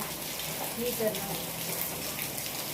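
Steady rain falls on a Gujarati village in a continuous hiss with a faint patter of drops, moderately loud and unbroken throughout.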